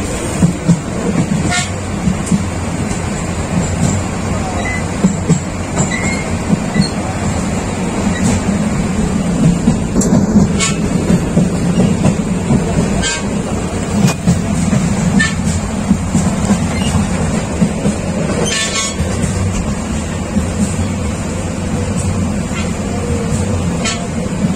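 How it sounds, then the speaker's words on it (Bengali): Inside the moving 802 Chattala Express passenger train from Dhaka to Chittagong, a loud continuous rumble and rattle of the carriage, with sharp clanks and a horn toot. "এই হলো ট্রেনের এখন ভিতরে অবস্থা।"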